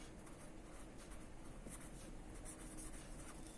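Pen writing an entry into a classification column of a double-entry bookkeeping sheet, a soft continuous scratch across the paper lasting a few seconds, close and quiet with no talking.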